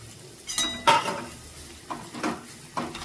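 Mint goes into a pan off the heat with a few distinct metallic clinks and scrapes of a spoon, followed by softer stirring knocks and rustles, close and fairly quiet.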